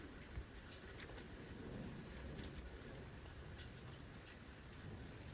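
Steady rainfall pouring down as a dense, continuous hiss of drops, fairly faint and distant, with no voices.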